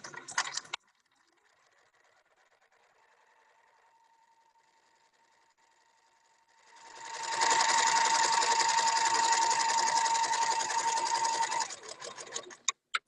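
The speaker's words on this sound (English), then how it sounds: "The sewing machine, if it's like cleaned and working well, it's going to feed itself." A sewing machine runs in quick bursts of rapid stitching, starting and stopping, with a quiet whirring motor between runs.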